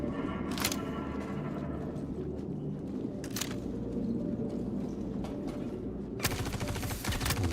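Gunfire in the video game Star Citizen: rapid sustained automatic bursts with a dense rattling texture, several sharper louder reports standing out, and a heavy final volley near the end, steady and close throughout.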